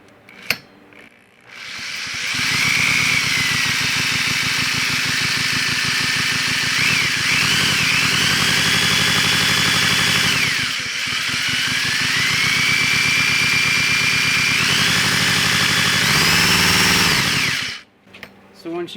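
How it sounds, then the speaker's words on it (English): Homemade four-cylinder engine built from Stihl parts, running before an ignition gap adjustment: a loud, continuous droning run with slight speed swells, close up, cutting out abruptly near the end. "So this is before adjusting the gap."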